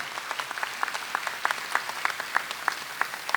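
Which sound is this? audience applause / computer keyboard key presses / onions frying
audience applause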